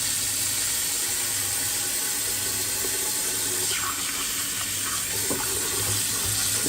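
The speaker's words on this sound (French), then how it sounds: "Mettez de l'eau." Tap water pours steadily and loudly into a cooking pot, a constant full rush with faint clinks of the pot underneath, close by and without any voices.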